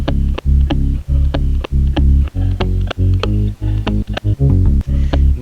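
A pulsing synth bass line is layered with a processed guitar sample's sharp, plucky hits, the notes choppy and rhythmic, loud and up front with no voices.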